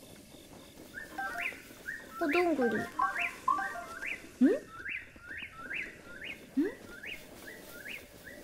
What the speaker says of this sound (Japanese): 鳥の声。